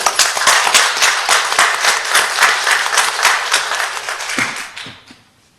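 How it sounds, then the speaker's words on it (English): Audience applause fills a city council meeting chamber, steady dense clapping close and loud for about five seconds before tapering off into quiet. "Give it a round of applause"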